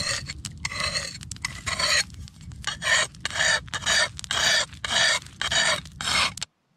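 A blade is sharpened on a wet sandstone whetstone in a rhythmic run of about nine loud rasping strokes, each lasting roughly half a second and separated by short pauses, with no voices.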